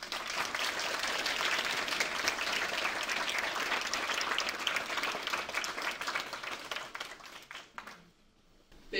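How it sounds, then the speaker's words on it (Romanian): Sustained applause from a large conference audience in Vienna, dense and steady for several seconds before thinning out and fading near the end. "Vă rog să aplaudați"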